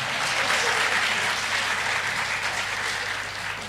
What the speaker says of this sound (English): A bigger clap for that